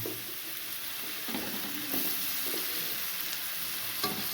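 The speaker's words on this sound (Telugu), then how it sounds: "సో ఈ బటర్లో కొంచెం ఆనియన్స్ వేసుకుందాం." Onions fry in butter in a pan for cauliflower rice, a soft continuous sizzle with a few quiet stirring scrapes, faint and close with no talking.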